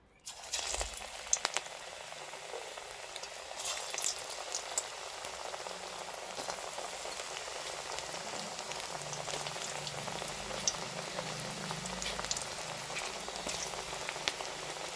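Puffed rice fritters (muri chop) frying in hot oil over a low flame give off a steady, dense bubbling sizzle, close and even throughout, with no voices.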